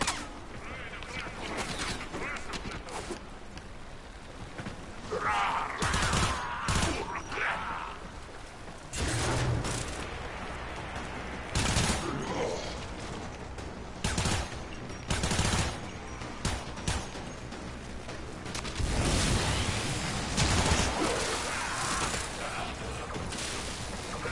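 A fast-shooting weapon in Warframe fires loud, rapid bursts in several separate clusters, layered with mechanical game effects and a voice talking between the volleys.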